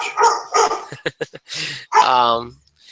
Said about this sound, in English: she's barking profusely at everything and everyone that moves